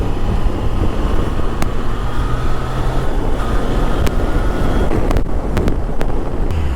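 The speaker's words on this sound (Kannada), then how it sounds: "ಓಬ್ ಓಬ್ ಓಬ್ ಅಂತ ಹೊಡಿತಾ ಇದೆ ಗಾಳಿ" Loud, steady wind roar buffeting the microphone on a moving Triumph Tiger 660 Sport motorcycle, with the triple-cylinder engine droning underneath and a few brief ticks.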